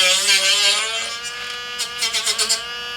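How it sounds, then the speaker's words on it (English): A small handheld mini Dremel rotary tool cuts off a plastic tab from a portable air conditioner part, making a high, buzzing whine that wavers and stutters in short bursts as it bites into the plastic. "Or you can use a little mini Dremel tool to cut that off."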